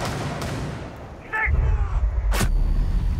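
Gunfire in the video game Rainbow Six Siege on the Chalet map: a couple of sharp shots, the second loud and close, over low rumbling game noise.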